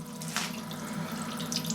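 Water pours steadily into a lathe's coolant tank, a continuous splashing and trickling stream heard alone without voices.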